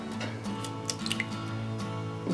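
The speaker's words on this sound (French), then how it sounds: "Ensuite, on va venir mettre nos œufs." Raw eggs slide and plop wetly into a bowl, a few soft drips and squishes close by, with no talking.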